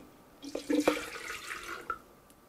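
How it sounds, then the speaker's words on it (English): Water tipped into a Russell Hobbs stainless steel kettle: a short splashing pour with a gurgling burst near the middle and a final splash, fairly faint and close, with no talking. "So we're gonna tip our water in."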